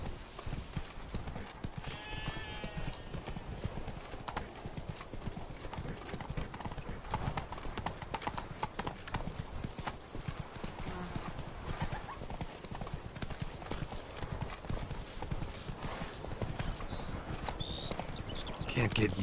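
Horse hooves galloping steadily in The Witcher video game, a continuous rapid clip-clop running throughout, close and loud, with a horse whinny and character dialogue over it.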